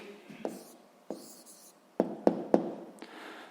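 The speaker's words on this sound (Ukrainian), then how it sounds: "Ну що ж, записуємо тоді відповідь." Pen writing on paper during a sixth-grade math exercise, with soft scratching strokes and several sharp taps as marks are made, close and quiet, with faint whispery speech.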